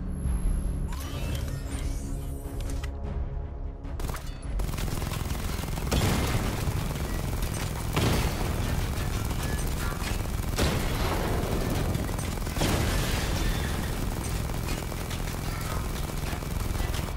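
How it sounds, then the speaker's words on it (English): Batman: Arkham Knight weapon fire and a missile barrage: after a quiet mechanical opening, loud rapid bursts of gunfire and booming explosions pound on continuously, with heavy impacts recurring every couple of seconds. "Destroy targets to charge up weapon energy and activate missile barrage."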